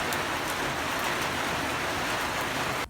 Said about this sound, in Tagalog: Ito, umaulan na naman.